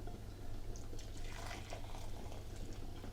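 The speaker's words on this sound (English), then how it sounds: "pour it in" Hot chicken stock poured from a pan into a measuring jug, a soft continuous liquid gurgle and trickle that rises and falls over a low background hum, faint and close.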